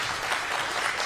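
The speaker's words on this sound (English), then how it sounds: "a big round of applause" A brief burst of steady clapping from a gathered crowd at a Ward 5 public safety walk in Washington, D.C., greeting Councilmember Brooke Pinto, with outdoor murmur beneath.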